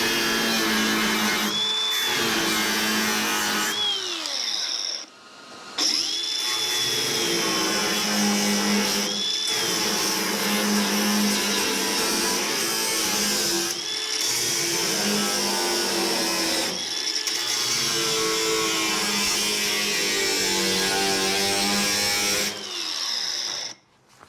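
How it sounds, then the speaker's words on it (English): A handheld power cutting tool bites into a spot weld on a Camaro body panel, whining loud and close with shifting pitch through long passes, briefly easing off several times before cutting back in. "I'm gonna cut the spot weld out."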